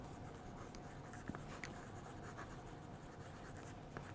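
A broad-nib fountain pen writing on paper, a very faint, close scratchy whisper of nib on paper with a few tiny ticks, steady and quiet.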